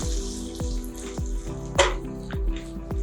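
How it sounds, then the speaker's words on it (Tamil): Onion and green chilli sauté in a pan for white chicken biryani, giving a steady close sizzle broken by repeated rhythmic clinks and scrapes of a spoon stirring, with no voices. "இந்த வெங்காயம், பச்சை மிளகாய் ஒரு பிங்க் கலர் வர்ற வரைக்கும் நம்ம வதக்கிக்கலாம்"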